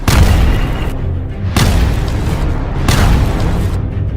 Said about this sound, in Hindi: लेबनान और इजराइल की सीमा के पास मौजूद कुछ फौजी ठिकानों पर धमाके होते दिखाई दिए।